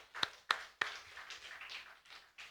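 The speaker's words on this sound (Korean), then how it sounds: "박수 한번 나올 것 같아요. 박수합니다." A few sharp hand claps ring out in a church during a Sunday morning service, three distinct claps followed by a faint scattered patter that fades, quiet and brief.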